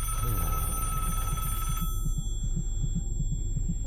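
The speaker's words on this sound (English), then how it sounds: "A loud ass phone ring." Loud old-style phone bell ringing in the horror game Family Curse, a shrill tone that holds for a couple of seconds and then stops, with a throbbing low pulse continuing underneath.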